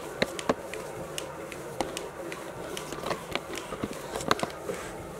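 A knee clicks faintly and irregularly while someone pedals an exercise bike indoors. The sharp little ticks sit over a soft background hum.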